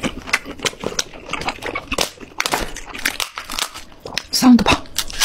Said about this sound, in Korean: 과자 소리가 나.